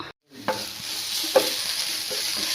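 Mustard seeds frying in hot oil in a pan, a steady hissing sizzle that starts after a brief silence, with a couple of sharp pops and clicks on top, close and moderately loud with no talking.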